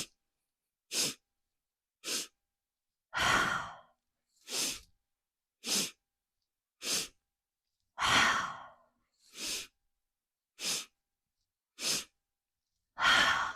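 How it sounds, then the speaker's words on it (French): Yoga breathing during a shoulder-focused class: a repeating cycle of three short sharp inhales followed by a longer exhale, close and clear, with silence between the breaths and no speech. "Ça fait inspire, inspire, inspire, expire."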